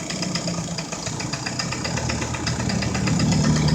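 A motorcycle engine idles with a steady, continuous rumble and faint mechanical knocking, fairly loud and close throughout, during a session of riding laps.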